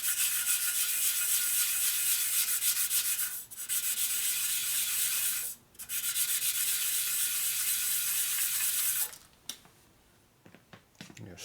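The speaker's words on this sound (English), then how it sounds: "Take a piece of my well-used sandpaper. This is a 120 grit. And we'll sand on a little bit." Well-used 120 grit sandpaper is rubbed by hand on a 1957 Harley panhead part, a steady close hiss of continuous strokes that pauses briefly twice, then gives way to a few scattered scrapes and taps at the end.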